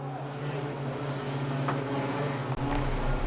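Junior sedan race cars, including a small Datsun 120Y, rumble and rev together on a dirt speedway, a steady loud engine drone that holds throughout with a brief dip near the end.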